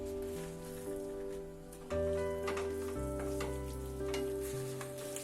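Fried mushrooms stirred into a sizzling tomato and soy sauce in a pan, a steady soft frying hiss with scraping and stirring clatter throughout, fairly quiet and close.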